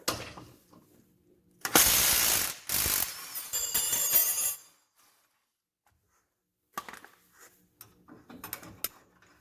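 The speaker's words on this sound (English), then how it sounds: "For the top bolt here, I just put the 21mm wrench here." A ratchet wrench clicks rapidly in a few close bursts while turning a track bar bolt on a Jeep JL, followed by quieter tool handling and clinks.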